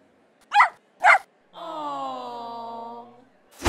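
A small dog gives two sharp, close barks followed by a drawn-out whining yelp, then a final bark at the very end, with no talk over it.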